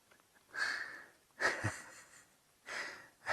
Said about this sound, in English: I can hear him snoring behind us.